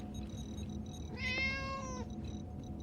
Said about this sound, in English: I love watching Data interact with his cat